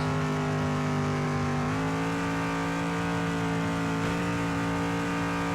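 A NASCAR-type race car engine in the Demolition Derby 3 video game drones at high revs with a steady, buzzing tone, dipping briefly and climbing again twice as it shifts, loud and continuous without speech.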